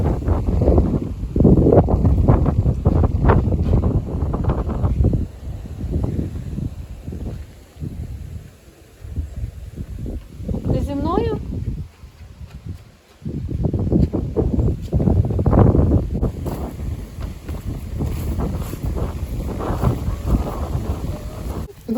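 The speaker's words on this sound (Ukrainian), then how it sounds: "Який вітер." Strong gusting wind buffeting the microphone in loud, rumbling bursts, easing briefly midway before roaring back; no voices.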